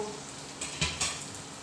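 Pork steak with black pepper sizzling in a pan after being flipped, a steady soft fry with a couple of brief louder crackles, quiet and close with no talking.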